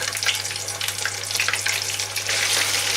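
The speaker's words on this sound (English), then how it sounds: "we can drop all our prawns back in for that last little cook" Prawns go into hot fat and fry with a dense, crackling sizzle that holds steady for a few seconds, close and loud with no voices.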